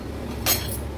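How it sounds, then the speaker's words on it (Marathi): A metal lid comes off a pan in which an instant bun dosa for fasting has steamed on a low flame, giving one short, close clink and scrape in an otherwise quiet kitchen. "आपण झाकण काढून बघूया"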